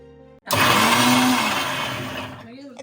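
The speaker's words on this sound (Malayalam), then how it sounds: "ചെറിയ മിക്സി ജാർ ആയതുകൊണ്ട് 2 പ്രാവശ്യമായിട്ട് ഇട്ടെടുക്കാം" Small mixer-grinder jar whirring loudly as it grinds coconut, cumin and garlic for a Kerala dish, switching on abruptly after a brief quiet moment and running steadily before easing off, with a voice briefly heard at the end.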